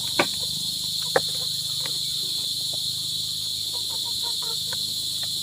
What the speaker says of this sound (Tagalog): Ingay talaga tong kuliglig na to.